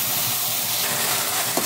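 Ground tomato sizzles steadily as it is sautéed with asafoetida in a pan for aval upma. The frying is close and loud, and a single brief clink comes near the end.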